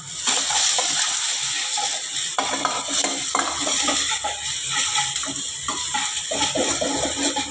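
Chopped green chillies frying in a pan for egg rice give off a loud, continuous close sizzle with occasional stirring scrapes and no voices.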